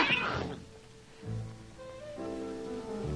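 A cat meows several times up close, with drawn-out, wavering cries that rise and fall over a quiet background, and no talking.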